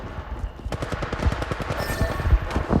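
Rapid automatic gunfire in the battle royale game Apex Legends, a steady stream of close, sharp shots that swells louder toward the end, with no talk over it.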